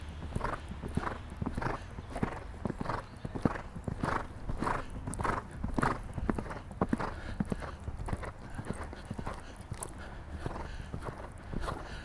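A horse's hooves beat on the ground during flat training, a steady rhythmic clip-clop of repeated footfalls, fairly faint and somewhat distant, continuing evenly throughout.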